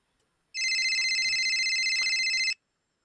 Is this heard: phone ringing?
yes